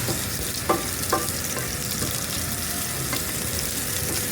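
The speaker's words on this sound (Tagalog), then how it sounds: "Medyo mabango na po yung ating ginikisang bawang sa kaluya" Garlic and ginger sautéing in a hot pan, a steady loud sizzle and frying hiss throughout, with a few sharp clinks and scrapes of a utensil stirring against the metal.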